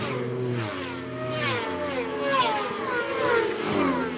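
AMA Formula Xtreme racing motorcycles at Road America, engines rising and falling in pitch as they accelerate and shift through a fast kink, a layered pack of revving motors heard at a distance throughout.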